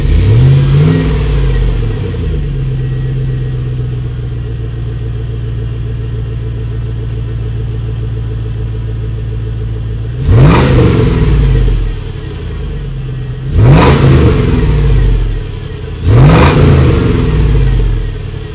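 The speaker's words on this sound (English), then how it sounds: "I did a Flowmaster Delta Flow 50 series, which we'll listen to in a second." A GM Vortec 5.3 V8 breathing through a Flowmaster Delta Flow 50 series exhaust idles with a deep steady rumble, then three loud revs surge and fall back in sequence, close and with no voices.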